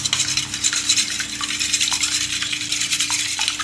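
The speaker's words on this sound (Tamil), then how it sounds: "எந்த அளவு உங்களால் பீட் பண்ண முடியுமோ அந்த அளவு பீட் பண்ணிக்கோங்க" Eggs beaten by hand in a bowl for a Christmas cake, a steady busy whisking with quick scraping clicks against the bowl, close and continuous with no talk.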